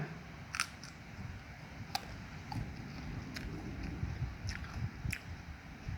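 Biting and chewing a fresh red Barhi date fruit outdoors on a farm, with a few faint, crisp crunching snaps over a low background hum.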